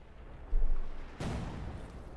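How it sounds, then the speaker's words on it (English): Tank cannon fire in the World War II strategy game Company of Heroes 2, with a shell bouncing off a Sherman's armour: two heavy booms about a second apart, the second with a rumbling tail. "Shot bounced off the Sherman's armour."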